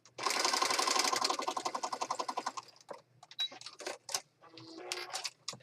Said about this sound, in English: I'm going to go to the sewing machine here and stitch this